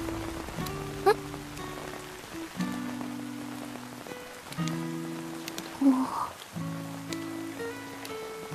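Steady rain falls on surfaces outdoors in a quiet residential street, a continuous soft patter with occasional louder drops, running behind sustained musical tones with no talk.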